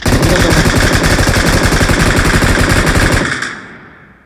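Machine gun fire in the battle royale game PUBG comes as one loud, close, sustained burst of rapid, evenly spaced shots lasting about three seconds, then cuts off and leaves a fading echo.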